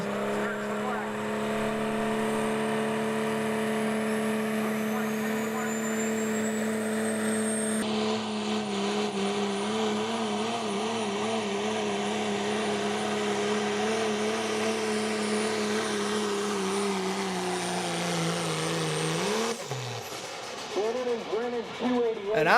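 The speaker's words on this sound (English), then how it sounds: "He's spooling up. Let's see what he can do here. His debut run in the hot rod diesel division." A hot rod diesel pulling truck spools up and roars down a truck-and-tractor pull track, a loud sustained engine drone with rising turbo whine and shifting pitch, ending in a sharp change near the finish, with an announcer talking over it.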